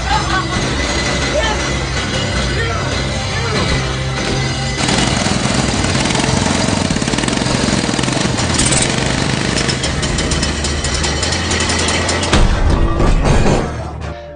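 A first homemade motorcycle engine is cranked, giving a sustained rough mechanical roar and rattle that grows denser partway through and then cuts off near the end, under a dramatic narrated soundtrack with speech.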